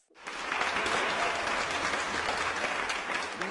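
Steady applause for a contest winner fills the space, starting abruptly and holding loud and even for a few seconds from a group of clapping hands.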